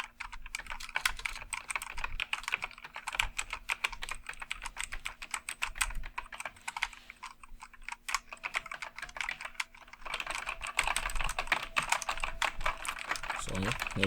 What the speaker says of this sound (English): this is just going to be the simple sound test for the keys